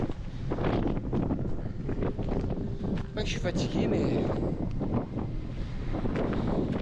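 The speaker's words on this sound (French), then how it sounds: "Il y a du vent en plus. Ça souffle vraiment pas mal." Strong wind buffets the microphone on a mountain hiking trail in the Esterel massif, a constant loud roaring rumble, while a person speaks French over it.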